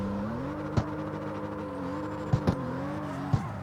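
BMW M2 built as a drift race car in CarX Street, its engine holding a steady droning rev with slight pitch swings, punctuated by a few sharp clicks or thumps, loud and close with no talk.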